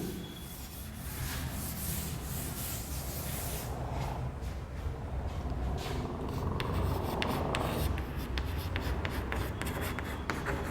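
Writing during a Class 11 physics lesson: steady scratching and rubbing strokes, quiet and close, continuing without speech for about ten seconds.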